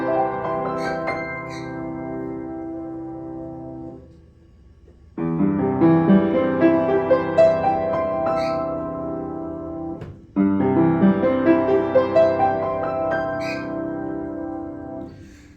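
Piano arpeggios in major keys, played with hands crossing over and under while the sustain pedal is held, ringing out in three sustained, blurred phrases, each swelling in after a short dip, with no talking.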